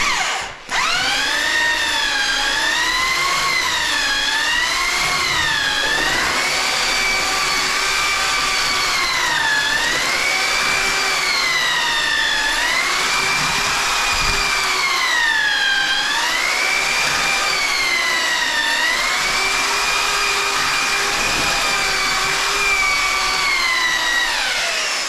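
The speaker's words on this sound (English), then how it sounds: "So hold off on just standing there and mixing it with your mixer." Electric paddle mixer stirring a sand and cement mix for tiling, a steady whining motor drone with wavering pitch as the load shifts, continuous and close for the whole stretch.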